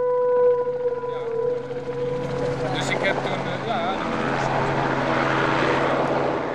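A small aircraft carrying compact radar equipment drones steadily overhead as it flies over dikes, its propeller hum holding an even pitch throughout.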